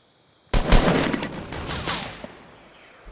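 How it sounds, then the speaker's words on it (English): Rapid automatic gunfire in the Fortnite battle royale game, a loud dense burst of shots that starts abruptly, rattles for about a second and a half, then thins into scattered echoing reports. "Someone else is shooting at him, I'm pretty sure now."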